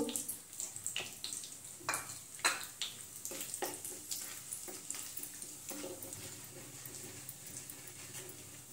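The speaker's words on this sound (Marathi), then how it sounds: "तेल गरम झालंय. आता आपण जिरं, तमालपत्र आणि दालचिनी सर्व खडे मसाले आपण टाकून घेऊ." Whole spices, cumin, bay leaf and cinnamon, dropped into hot oil in a kadhai, giving a soft sizzle with scattered crackles and stirring scrapes that fade to a quieter steady hiss.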